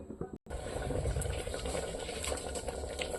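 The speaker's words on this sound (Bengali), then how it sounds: "এটা এখন একটু ফুটে গেলে হয়ে যাবে" Liquid boils in a pot on the stove, giving a steady close bubbling and gurgling that continues after a brief cut near the start.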